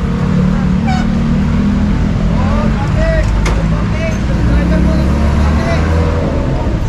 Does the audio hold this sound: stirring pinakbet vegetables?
no